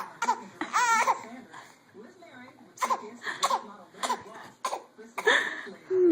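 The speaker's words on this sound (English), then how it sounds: "You just learned that you can cough." A baby makes several short, deliberate fake coughs mixed with giggles and babbling, close and clear, while an adult talks intermittently between the sounds.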